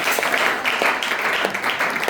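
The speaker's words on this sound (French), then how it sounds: "Est-ce que nous pouvons acclamer très fort?" Church congregation at a Sunday service clapping rapidly and cheering, a dense burst of applause that fills the whole short moment at close range.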